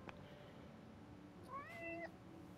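A small cat in the video game Forspoken gives a single clear meow, rising then falling in pitch, heard close over a quiet ambient background.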